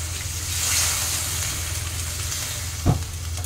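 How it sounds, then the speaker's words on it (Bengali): Hot water poured into greens frying in a pan sets off a loud, steady sizzle that holds for several seconds, with a brief clunk near the end. "এবার আমি জল দিয়ে দেবো"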